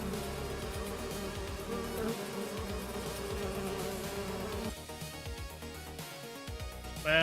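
Bees buzz in Farming Simulator 25, a sustained droning hum over low rumble that thins out partway through before a brief louder burst at the end, with no voices.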